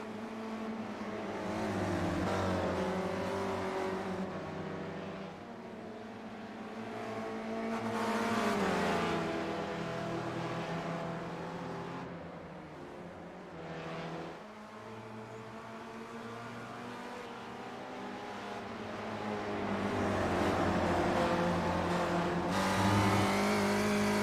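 Onboard a Spec Racer Ford race car on the Nürburgring Nordschleife, the engine drones continuously and close, its pitch rising and falling through shifts and revving as it chases another car, with occasional faint tire noise.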